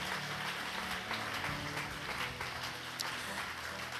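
A church congregation at a morning worship session cheers and applauds the word of the Lord: a full, continuous wash of clapping and voices, loud and sustained.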